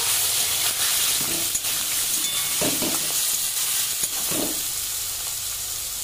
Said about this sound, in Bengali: একটু ভালো করে ভাজা ভাজা করে নেব।